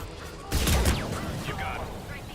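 A short burst of gunfire rings out in the Mass Effect video game, loud at first and then fading under the game's ambient noise and faint voices.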